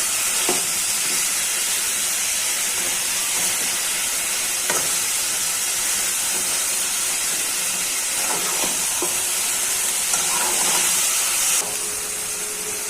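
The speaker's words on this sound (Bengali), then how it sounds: "শাকগুলো ভালো করে মশলার দ্বারা কষানো হয়ে যায়।" Spinach sautéing with spices in a pan, giving a loud continuous frying hiss with occasional spatula scrapes and clinks throughout, no talking.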